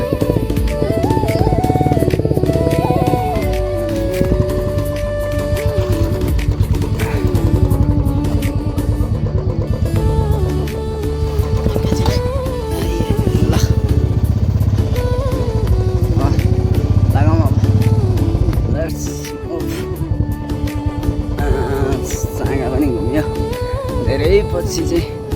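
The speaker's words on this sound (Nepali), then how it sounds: "सबैले बाइक चलाइरहेछ" Motorcycles ridden near a Mahadev temple around Kathmandu, engines droning and revving close by with a few passing swells, loud and continuous, with people talking over them now and then.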